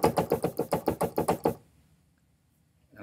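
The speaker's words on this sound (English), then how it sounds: "I'll play the egg shaker" A steady run of about nine crisp, evenly spaced shaker hits, then the sound stops abruptly, leaving near silence.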